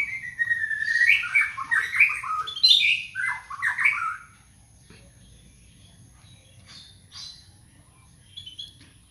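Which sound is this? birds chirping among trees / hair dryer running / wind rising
birds chirping among trees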